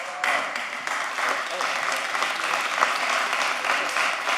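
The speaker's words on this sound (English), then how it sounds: "If you could please give them a round of applause." Audience members at a City of Miami commission meeting give a round of applause, a loud, sustained burst of many hands clapping that starts abruptly and carries on evenly, with faint voices underneath.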